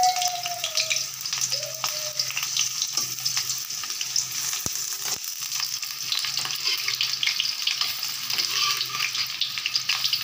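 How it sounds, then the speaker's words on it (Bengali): Gima greens fritters sizzle steadily in hot oil, a dense, continuous crackling fry that stays close and even throughout, with a few faint clinks alongside. "তেল হয়ে গেছে, এখন আমি বড়াগুলি দিয়ে দিলাম। অল্প আগে ভাজবো, বড়াগুলি ভালো হবে,"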